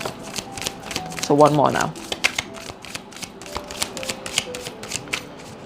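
A deck of tarot cards shuffled close by, with a quick riffling burst followed by a run of soft, regular card flicks, while a person talks over it.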